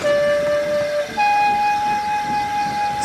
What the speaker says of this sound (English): So, Molly took over Emily's passenger train, while Emily went to go take Molly's goods.